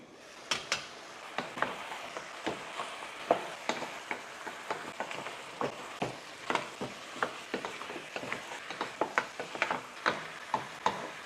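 Metal spoon stirring beef curry in an uncovered pot in a modern kitchen, a rapid run of sharp scraping clicks and taps against the pot with a soft sizzling bed underneath, close and fairly loud.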